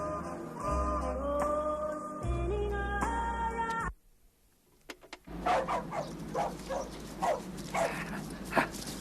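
Several dogs bark and whimper in a domestic scene, with short yips and barks repeating at close range after music cuts off and a brief quiet pause.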